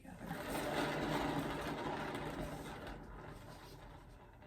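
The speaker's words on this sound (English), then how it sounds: "I need to spin this some more." Canvas spun on a turntable to spread acrylic paint in a circular bloom swipe, making a steady mechanical whirring hum that swells, then slowly fades toward the end, close by and without talk.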